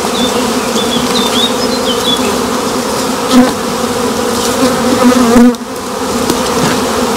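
Honeybees buzzing loudly and continuously during the transfer of an overwintered swarm from a nucleus box into a hive, a dense close drone with a few brief louder swells.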